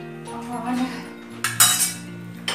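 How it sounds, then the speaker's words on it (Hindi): Kitchen utensils and metal dishes are gathered and moved on a home kitchen counter, giving a few close clinks and clatters with short bursts of clanking near the end. "ये बर्तन भी उठा देती हूँ"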